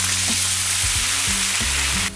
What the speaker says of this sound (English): I'm just going to get this onto a fairly high heat, and as it starts to sizzle